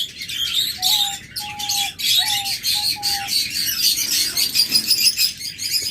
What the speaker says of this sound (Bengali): একদম টপ কোয়ালিটির পাখি